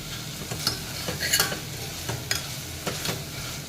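Drumstick leaves sautéing in a pan for a few minutes as salt is added, a steady close sizzle with several sharp scrapes of a stirring spoon against the pan, no voices.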